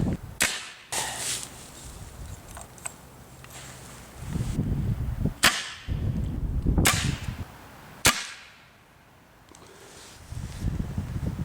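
A paintball marker fires sniper fin rounds outdoors: several sharp, separate pops spaced a few seconds apart, with wind noise and faint rustling between shots.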